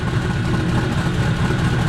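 A 1956 Volkswagen Beetle engine idles with a steady low rumble, close and continuous, with no voices.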